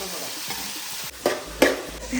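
Onions and fenugreek seeds frying in ghee and coconut oil in a pan: a steady sizzle with a couple of louder stirring scrapes, close and continuous.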